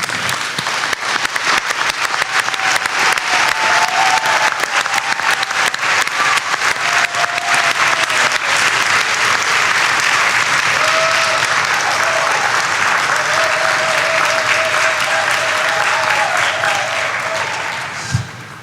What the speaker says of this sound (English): another round of applause is in order